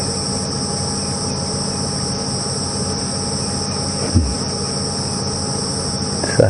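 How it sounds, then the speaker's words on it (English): Cicadas call in a continuous loud, buzzing drone across the African bush at Djuma Game Reserve on an afternoon safari drive, with a couple of faint thumps near the end. "And you can hear the cicadas calling."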